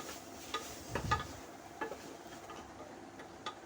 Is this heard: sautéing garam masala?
yes